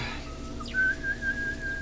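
A single person whistles a short signal, starting with a low note, then sliding up into a steady sustained higher tone, heard close over a faint background hum in a Walking Dead scene.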